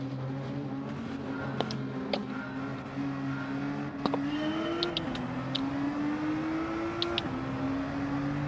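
Racing car from Gran Turismo 7 driving steadily to warm its tyres, a sustained engine drone whose pitch rises and falls slightly with gear changes, with occasional faint clicks over a continuous game soundscape.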